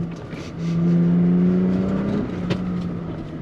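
A 2022 Toyota Tacoma TRD Pro with a six-speed manual pulls hard in first gear through rutted sand. The engine note climbs steadily and stays loud throughout, ending in a steady drone.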